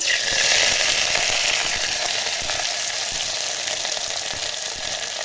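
Onions sautéing in a hot pan with curry leaves and whole garlic for a peanut curry, giving a steady, loud, close sizzle and crackle that holds evenly throughout with no talking.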